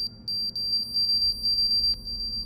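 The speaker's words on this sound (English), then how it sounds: "Take this beeping antenna for instance." A radio antenna in a Chernobyl-themed video game beeps insistently as it searches for the right frequency. Its sharp, high electronic bleeps come in a fast, uneven stream over a low, quiet background rumble.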